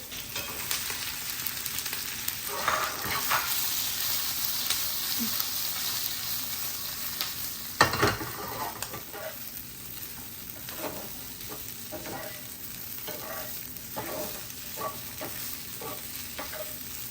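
Mustard seeds, sesame seeds and green chilli sizzle in hot oil for a tempering, a steady close frying hiss with light stirring and scattered crackles, one sharper pop near the middle.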